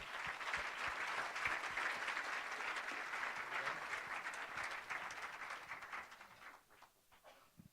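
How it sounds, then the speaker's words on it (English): An audience at a dinner event gives a big round of applause for the speakers of a first segment, dense steady clapping that fills the room and then thins out and fades over the last second. "please let's give all of our speakers for this first segment and the rest fighting for this cause in the room a big round of applause"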